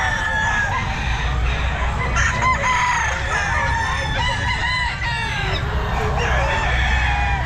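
A rooster crows repeatedly at a Sunday pet market, its calls loud and close over steady crowd murmur and clucking fowl.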